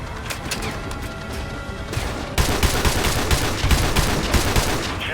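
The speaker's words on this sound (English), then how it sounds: "We're getting shot at from everywhere." Dense, loud video game gunfire in Call of Duty: Modern Warfare 2 Remastered, with rapid shots and bursts crackling continuously and thickening into a heavier barrage midway, without any talk.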